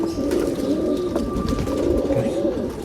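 A male Rekdhar pigeon coos in low, rolling throaty bursts, close and continuous, with faint background noise and no clear speech.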